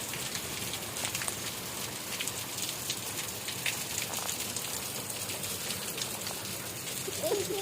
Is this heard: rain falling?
yes